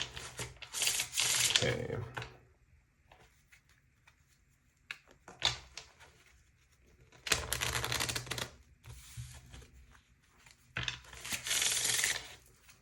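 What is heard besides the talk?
tarot cards being shuffled and drawn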